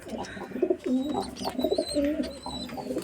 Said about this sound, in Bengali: দেখতে পাচ্ছ এখানে সব পায়রা আছে